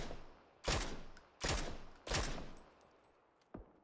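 Three loud, echoing gunshots ring out in a video game firefight, evenly spaced, followed by a fainter fourth shot. Each blast fades slowly.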